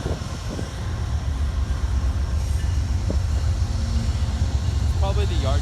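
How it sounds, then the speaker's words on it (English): A Union Pacific freight train rumbles in with a low, continuous rolling drone and occasional clanks near Dealey Plaza in Dallas, Texas, while people talk faintly nearby. "And now we got a UP train coming in."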